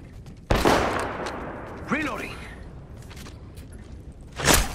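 Gunfire in an Apex Legends match: a couple of sharp, loud shots crack out at the start and end, separated by game noise and a brief rising electronic chirp in between.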